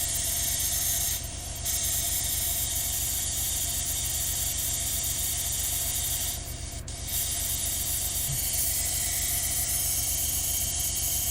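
An airbrush fires water through its nozzle to flush out leftover primer, a loud continuous hiss like escaping steam that runs the whole length, dropping briefly twice when the trigger eases, with no talking.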